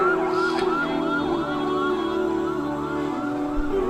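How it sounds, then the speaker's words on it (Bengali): An ambulance siren wails with a rising and falling pattern, loud and steady over road traffic noise. "ডানে কি অ্যাম্বুলেন্স যাচ্ছে"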